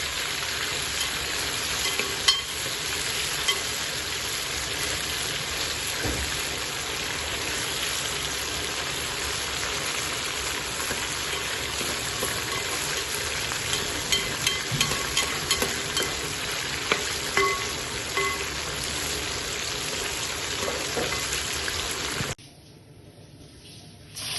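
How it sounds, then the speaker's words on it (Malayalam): Steady, dense sizzling of marinated chicken frying in coconut oil, with occasional crackles and pops, continuing alone until it abruptly drops away near the end. "നമുക്ക് നേരത്തെ മാരിനേറ്റ് ചെയ്ത് വെച്ച ചിക്കൻ ഫ്രൈ ചെയ്തെടുക്കാം വെളിച്ചെണ്ണയാണ് ഞാൻ എടുത്തിരിക്കുന്നത്"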